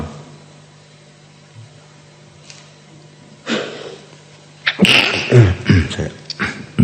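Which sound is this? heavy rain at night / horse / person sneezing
person sneezing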